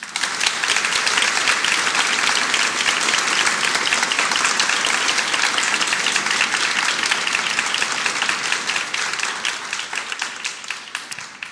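A church congregation applauding in honour of a pastor at a church anniversary service: dense, steady clapping from a large crowd, loud and sustained throughout, easing only slightly toward the end.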